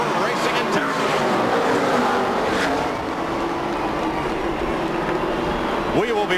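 Loud race cars roar past as the green flag drops to start the 1999 Primestar 500 NASCAR race in Texas, engines revving under crowd noise with a commentator's voice running over them.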